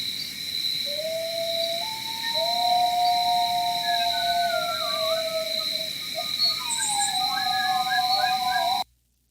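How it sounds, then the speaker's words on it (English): Coyotes calling in a noise-reduced wildlife recording: several long, wavering howls and yips overlap at moderate distance over a steady hiss and insect-like drone, ending abruptly. "we can hear the coyotes much better"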